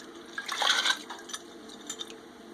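Homebrewed beer wort with oak chips splashes and gurgles into a fermenter, a brief burst of liquid pouring followed by a few softer trickles and drips nearby.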